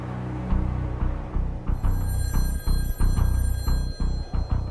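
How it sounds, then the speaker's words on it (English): Telephone bell ringing in rapid, rhythmic bursts over several seconds, loud and near, with short gaps between rings and no voices. "So the phone rang"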